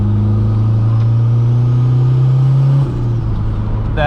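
A K-swapped Honda Jazz race car's engine drones loudly and close from the driver's seat, its pitch climbing steadily under throttle before dropping sharply at a shift, with no talking.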